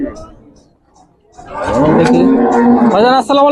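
Cattle at the Gabtoli cattle market give loud, drawn-out moos that start about halfway through and rise and fall, with people talking nearby.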